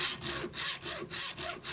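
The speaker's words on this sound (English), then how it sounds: "put it into the vise clamp, and use the regular hacksaw to cut it to length" A regular hacksaw cuts a metal spindle held in a vise, with steady back-and-forth strokes, about seven rasping passes in an even rhythm, close and moderately quiet.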